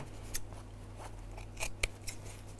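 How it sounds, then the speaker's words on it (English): Sharp craft scissors snip through layered fabric for a Valentine mug mat, giving a few short, crisp cuts spaced across the moment over a steady low hum, with no talking. "So these scissors are a bit sharper than those little ones."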